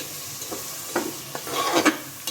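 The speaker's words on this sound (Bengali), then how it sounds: "দিয়ে দিলাম পেঁয়াজ কষি রসুন কষি" Onion and garlic sautéing in a pan give a brief burst of sizzle broken by several scraping stirs of a spoon, close and moderately loud, no speech.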